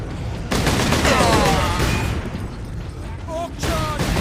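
Rapid bursts of gunfire in the video game Space Marine, loud and dense throughout with booming impacts, while a voice speaks over the battle.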